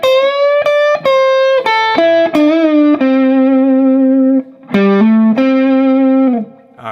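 An overdriven electric guitar plays the second solo section of a song: quick picked notes, then long bent and sustained tones with vibrato, loud and close, with brief dips between phrases.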